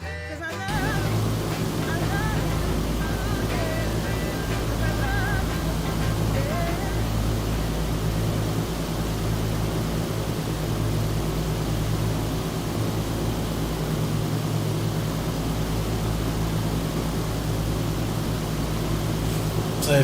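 An aircraft engine drones at cruise in Microsoft Flight Simulator 2020, running heavy at higher RPM; a loud, dense, steady roar fills the whole stretch without pause.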